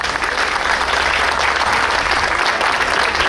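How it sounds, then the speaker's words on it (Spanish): Steady, dense applause from an audience at a cultural gathering in La Barrera, Valsequillo, welcoming a speaker; a continuous wash of many hands clapping at even loudness with no talk. "Esa fuerte aplauso para doña Lina."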